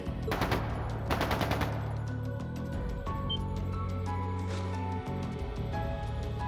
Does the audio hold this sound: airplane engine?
no